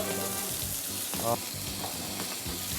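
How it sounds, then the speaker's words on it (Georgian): Sliced mushrooms fry in melted butter with garlic in a pan. The sizzle is soft and steady, with a few light scrapes of stirring. "აი ეხა ეს სოკო გადაიტანე ამ კარაქში. ჩავყარო აქ ტაფაზე?"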